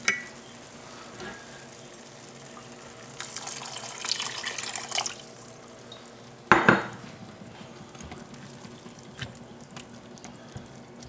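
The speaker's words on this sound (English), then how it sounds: "So we're going to add a little more liquid to it." More liquid poured into a pan of cooking seafood risotto, a splashing, hissing pour lasting a couple of seconds, followed by a sharp clatter of a pot or lid over a quiet kitchen background.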